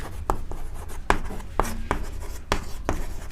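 Chalk or marker strokes on a classroom board as a teacher writes out a math solution, a run of sharp tapping and scratching strokes at an uneven rhythm, close and fairly quiet with no talk.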